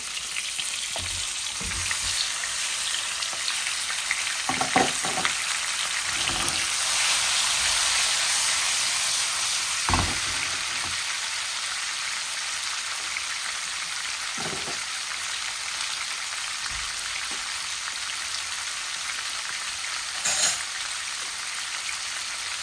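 Medium-sized tilapia fish, rubbed with salt and turmeric, fry in hot oil in a pan with a steady close sizzle and occasional crackles and pops, without speech.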